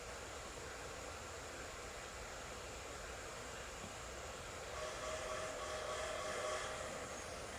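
A train rolls past in a video game, a faint, steady rumble and hiss that grows slightly louder during the second half, with no talking.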